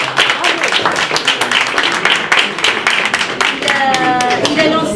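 Audience clapping at a community fridge inauguration, dense steady applause from many hands lasting throughout, with some voices mixed in.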